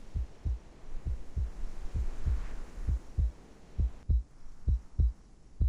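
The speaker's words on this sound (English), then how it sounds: "A heartbeat. Right outside the door." Heartbeat sound effect from the game Reverse: 1999, a steady run of deep, muffled double thumps repeating at a slow even pace over a low hum, alone with no talking.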